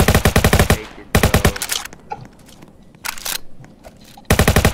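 Bursts of rapid automatic AK rifle fire from a Roblox game, loud and close, coming in three separate volleys with short pauses between them.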